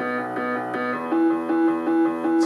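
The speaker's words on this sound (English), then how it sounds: "In this track, the piano would have come first" Simple software piano part in Logic, a few plain sustained notes and chords played at an even pulse, clear and close with nothing else around it.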